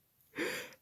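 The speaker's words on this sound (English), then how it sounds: "I feel like my yawns have become a usual thing in my videos since I stay up super late." A single short, breathy yawn lasting under half a second, close and fairly soft, with no speech over it.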